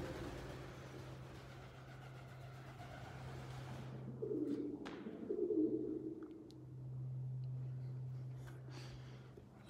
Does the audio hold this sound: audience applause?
no